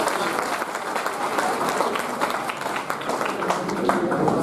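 An audience at a community award ceremony for talented students in Bundi applauds heavily, a thick continuous wash of clapping with some crowd murmur and faint voices underneath.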